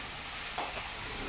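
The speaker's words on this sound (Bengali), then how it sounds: "ঢেঁড়স আলু ভাজা হচ্ছে" Okra and potatoes fry in a pan, a short burst of steady, close sizzling with a faint stir, no talking.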